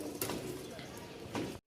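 A male tumbler pigeon coos nearby, giving two soft throaty calls roughly a second apart against quiet room background before an abrupt cut.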